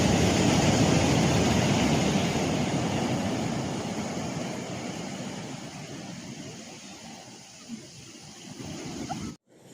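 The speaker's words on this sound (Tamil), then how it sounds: "அலையோட சவுண்டை பார்த்தே தெரிஞ்சிருக்கும் எவ்வளோ பயங்கரமாக இருந்துச்சுன்னு" Large ocean waves roar continuously onto Butler Bay beach in Little Andaman, a loud broadband wash that slowly eases before cutting off at the end.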